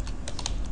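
Quick, irregular clacking of fingers typing on a computer keyboard while entering a program name in an Ubuntu GNOME startup applications dialog, close and steady with no voices.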